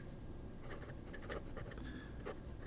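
A Jinhao 9019 fountain pen fitted with a small Schmidt No. 5 flex nib writing on paper, giving quiet, close scratchy strokes in an irregular rhythm over low background hiss.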